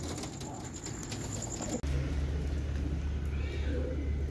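Pigeons or doves coo outdoors in the morning, soft low calls against steady background noise, with a brief bump part way through.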